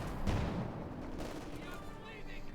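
Tank cannon shots and shell hits boom in a Company of Heroes 2 match between Wehrmacht and Soviet forces, with Panzer IV and T-54 tanks. The blasts are muffled and sit under steady commentary.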